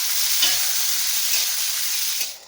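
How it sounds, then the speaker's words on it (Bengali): Chopped onions frying in a pan, a loud, dense, steady hiss of sizzling oil with a couple of faint stirring scrapes, fading out at the end. "এই চপ কৰি কটা পিঁয়াজখিনি মই ইয়াতে এই পিঁয়াজখিনি ধুনীয়াকৈ ৰঙচুৱা হ'লেকে মই ফ্ৰাই কৰি দিম"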